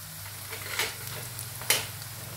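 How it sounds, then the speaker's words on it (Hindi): Potatoes fry in a pan with a low, steady sizzle, and a couple of brief scraping stirs stand out above it. The sound is fairly quiet and close, with no talking. "इस तरह से मैं इसको अच्छी तरह से फ्राई करूंगी।"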